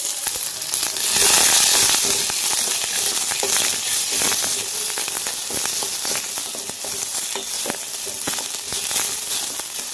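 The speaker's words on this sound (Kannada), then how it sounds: "ಸ್ವಲ್ಪ ಗೋಲ್ಡನ್ ಕಲರ್ ಬರೋವರೆಗೂ ಫ್ರೈ ಮಾಡ್ಕೊಳ್ಳಿ ಈರುಳ್ಳಿನ" Onions with cinnamon, cloves and other whole spices frying in a pan, a loud, steady sizzle and crackle with occasional stirring scrapes, close and continuous without speech.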